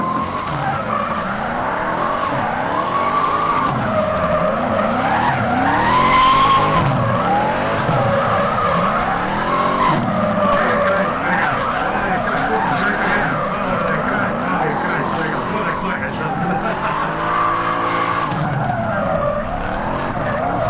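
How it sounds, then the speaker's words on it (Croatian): Drift cars running in tandem at a Croatian drift competition, round one top 16 battles, with engines roaring and tires squealing loudly and continuously as they slide, a faint commentator voice beneath. "Fuller kreće u pratnju, ležero s pol gasa"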